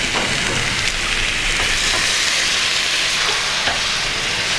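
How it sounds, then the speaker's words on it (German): Künefe sizzles and fries on a hot pan at a Gaziantep künefe shop, a dense, steady crackling hiss with no talking. "Brutzeln, Leute."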